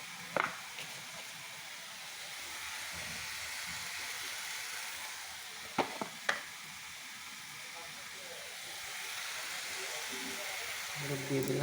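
Moong dal and a little potato fry in a pan with a steady, even sizzle throughout, broken by a few sharp stirring clicks, with no talk over it.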